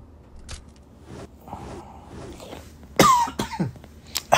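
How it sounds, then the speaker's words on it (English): Several harsh coughs burst out close by, a couple of quieter ones first, then a louder cluster near the end, with faint room noise between. "Excuse me for coughing still."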